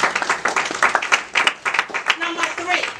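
A church congregation claps during a sermon, bursts of applause mingled with cheering voices and shouts, uneven and moderately loud, with a sustained tone near the end.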